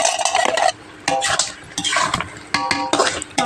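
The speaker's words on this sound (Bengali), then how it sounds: "মাংসটা এইভাবে কষিয়ে নেব" Meat is stir-fried and turned in a pan in a village home kitchen, with repeated rhythmic scraping strokes of a spatula against the metal in bursts, separated by short pauses and a soft sizzle beneath.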